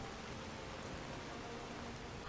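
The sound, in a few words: rain falling, from the video game Skyrim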